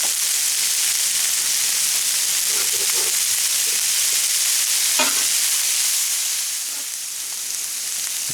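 Shrimp fry in a hot pan with a loud, continuous sizzle and hiss, close by and steady, broken by a few faint clicks and softening slightly near the end.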